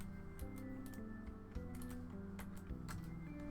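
A cat walking across a computer keyboard, pressing keys in irregular quiet clicks and taps over a faint steady background hum.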